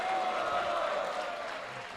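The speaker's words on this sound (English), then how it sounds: "Can we have a big round of Haribol and applause to all of you?" An audience at a devotional gathering breaks into applause mixed with a sustained crowd roar, a dense steady wash that fades slightly toward the end.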